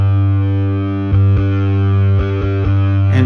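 Bass guitar blending a clean tone with a distorted, gritty signal through an effects chain, playing a steady low sustained note with several plucked re-attacks in the second half, loud and close, no talking.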